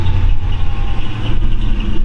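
A 1955 Chevy Bel Air with a supercharged LS1 V8 idles cold, a loud steady engine rumble with a faint high serpentine belt chirp over it.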